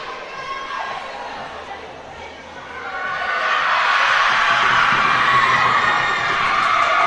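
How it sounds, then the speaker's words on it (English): A high school JV volleyball squad cheers on its varsity teammates during a timeout at a Mineola vs Quitman match, crowd noise building into sustained loud shouting and chatter in a gym. "Mineola JV volleyball team cheering on their varsity teammates out of this timeout."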